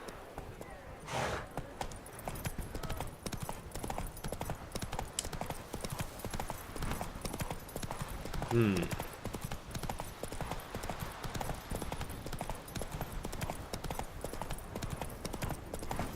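Hooves of Roach, the horse in The Witcher 3, clip-clop at a steady pace all the way through, moderately loud and close, with one brief higher sound partway through.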